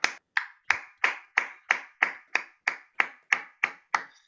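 A classroom group applauds presenters at a presentation skills course with thirteen sharp, evenly spaced claps in a steady rhythm, close and clear, with no talking.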